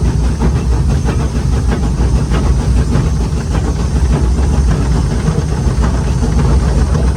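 A narrow gauge railway train runs steadily close by, a continuous loud rumble of engine and wheels with faint rhythmic clatter throughout, no voices.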